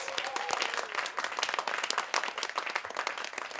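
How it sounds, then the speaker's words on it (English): Studio audience applause on a television news-comedy show, a steady wash of dense clapping that stays loud and continuous throughout, with no talk over it. "ladies and gentlemen. A round of applause."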